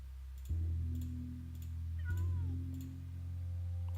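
A Minecraft cat gives two short meows about a second and a half apart, each over a low buzzing hum, with faint rhythmic clicking in the background and no talk.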